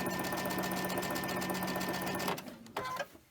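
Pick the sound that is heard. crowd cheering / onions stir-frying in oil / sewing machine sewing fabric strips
sewing machine sewing fabric strips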